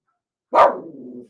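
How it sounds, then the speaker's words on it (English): A small dog barks once, sharp and close, in an apartment building, the single bark trailing into a brief rough growl before falling silent. "Ray's going to bark because that one's out there barking her head off."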